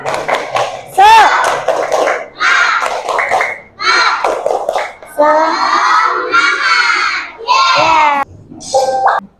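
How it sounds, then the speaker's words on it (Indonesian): A class of children performs a rhythmic spirit clap, with sharp claps mixed into loud, bursting group chanting in rapid, regular phrases with short pauses. "Tepuk semangat."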